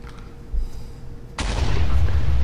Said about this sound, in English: I keep hearing explosions. I don't know what they're coming from.